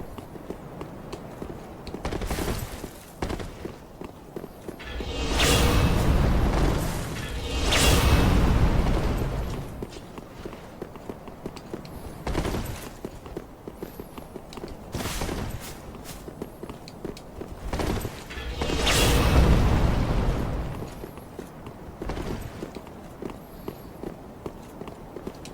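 In Dark Souls 3, a character unleashes Frayed Blade weapon art attacks: several loud whooshing slashes and bursts swell and fade at intervals, amid steady running footsteps and clanking game effects.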